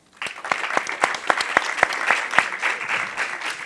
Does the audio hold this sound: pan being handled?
no